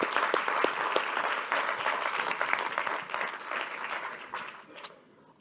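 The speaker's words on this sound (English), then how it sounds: "Ladies and gentlemen, a round of applause for the South Africa team." A conference audience at the MTN Group Capital Markets Day applauds the South Africa team, steady dense clapping filling the room for several seconds before tapering off near the end.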